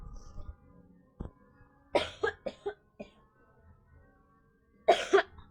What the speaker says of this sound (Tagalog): kasi inuubo talaga ako ngayon